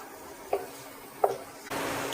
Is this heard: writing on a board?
no